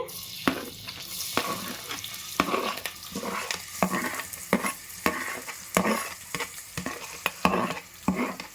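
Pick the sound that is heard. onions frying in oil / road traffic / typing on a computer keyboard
onions frying in oil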